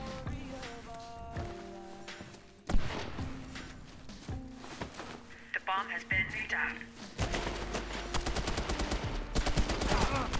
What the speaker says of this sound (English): Okay, I was just shooting.